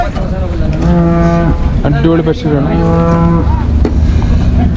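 Large dairy cows moo loudly and close by in several long, drawn-out calls, some overlapping, over a constant background rumble, with people talking nearby.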